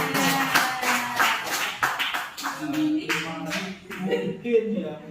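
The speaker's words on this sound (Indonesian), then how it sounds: "Kasih tepuk tangan." A group of teachers claps together at a school meeting, a scattered run of hand claps rising and falling over several seconds with voices talking over them.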